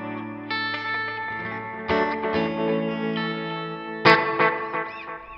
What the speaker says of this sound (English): I had just a delay, some tremolo, and some reverb on, which sounds like